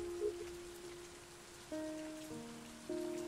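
Steady rain pattering on surfaces in a boat-themed video game, a soft continuous hiss with background music tones layered over it and no talking.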